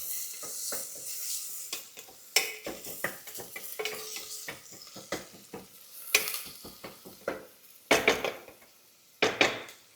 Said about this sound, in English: Okay, onion and green chili also if necessary you can add it nicely. So then we fry it properly.